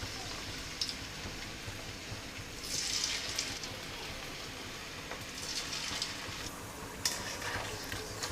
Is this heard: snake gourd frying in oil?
yes